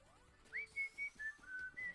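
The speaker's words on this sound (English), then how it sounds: "I just whistle a lot, and I forget that that probably sounds like crap on a microphone" A person whistles close to the microphone: a short run of about six clear, sustained notes in a bouncy, uneven rhythm, heard alone with faint background noise.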